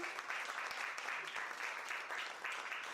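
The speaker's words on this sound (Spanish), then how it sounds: "Aplausos a Mego." Steady applause from a crowd, sustained clapping at moderate volume throughout with no speech over it.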